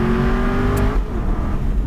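Exhaust note of an Aston Martin V8 Vantage 4.3 on the move, a loud rumbling V8 tone holding steady then easing off near the end in a short, close burst.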